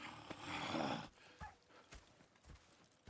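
Horses in the open-world video game Red Dead Redemption 2, with steady hoof clip-clops and a short whinny or snort over a busy game soundscape, mostly near and moderately loud.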